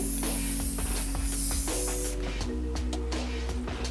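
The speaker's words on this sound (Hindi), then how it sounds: "अब हम इसको स्प्रे करके थोड़ी देर के लिए छोड़ देंगे।" Hair spray hisses steadily from an aerosol can onto short hair during styling, a continuous close spray lasting several seconds with slight variation in intensity.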